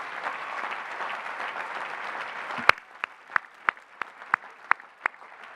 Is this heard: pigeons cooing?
no